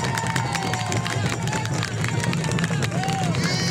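A crowd at a Rosário religious festival honoring São Benedito and Santa Efigênia cheers and claps, a continuous outdoor babble of voices, shouts and scattered applause at moderate distance.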